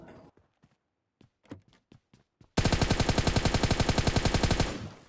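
Automatic gunfire in the PUBG Mobile Lite video game, a loud rapid burst of shots lasting about two seconds after some softer scattered taps and clicks.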